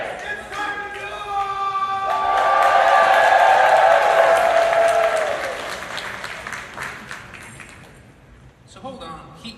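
A convention crowd bursts into loud applause and cheering that swells to a peak, holds for a few seconds, then fades, with a voice on a speaker heard over it at the start and end.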